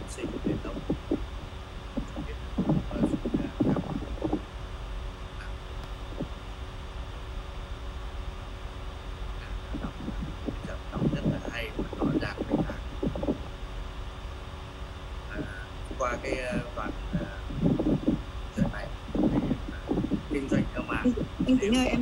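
An electric fan runs behind a man who is reading aloud, leaving a steady, moderately loud airy hiss under his continuous speech.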